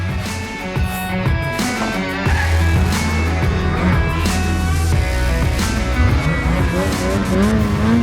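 A Ski-Doo Summit 850 E-TEC Turbo snowmobile engine roars continuously while riding, with shifting revs and wind noise, close up throughout.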